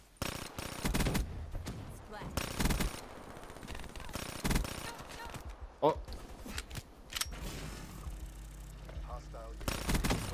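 Bursts of automatic gunfire in Call of Duty: Black Ops 3 multiplayer, several sharp rapid volleys spaced across the stretch, near and loud, with a player briefly exclaiming and game voices in between.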